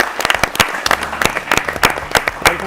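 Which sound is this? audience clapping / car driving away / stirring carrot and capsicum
audience clapping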